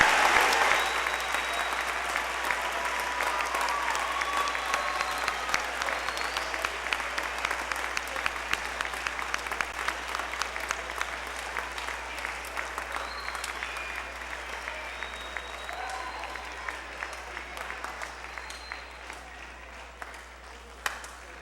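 An audience at a junior high band awards concert applauds for the band, a long dense stretch of clapping from many hands that gradually thins and fades toward the end.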